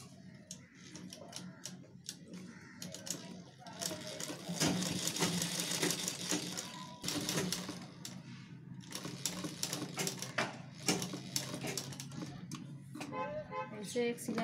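A sewing machine stitches cloth for a ladies' purse, its rapid mechanical clatter running in bursts that stop and restart, close and fairly loud, with a faint voice now and then.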